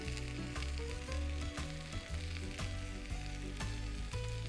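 Garlic and onions frying in olive oil in a pan give a loud, steady sizzle close up, broken by regular clicks and scrapes of stirring.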